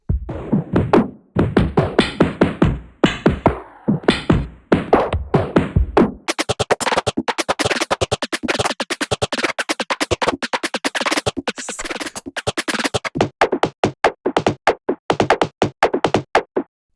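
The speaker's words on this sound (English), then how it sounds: "create percussion loops that sound like this" Busy electronic percussion loops with sharp, dense hits, shifting from a punchier pattern to a faster, tighter rhythm partway through, loud and continuous.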